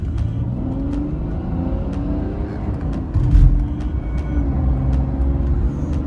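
A fully modified BMW 525d diesel car engine hums steadily close by, then is revved to a louder, rougher surge about halfway through before settling into a sustained raised drone; no one speaks.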